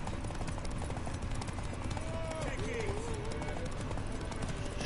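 Horse hooves in The Witcher 3 video game clip-clop at a steady running pace under constant background music and game sound, while someone talks over them.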